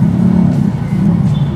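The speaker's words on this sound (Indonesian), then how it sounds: "Dan lalu lintasnya cukup ramai ya teman-teman." Busy road traffic near the main entrance of Kuta Beach, Bali, with car engines droning close by in a loud, continuous hum and passing vehicles mixing together, no talk audible.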